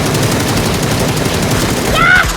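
Dense, rapid gunfire in the battle royale game PUBG, a steady loud barrage of automatic shots filling the whole stretch, with a brief whistling tone near the end.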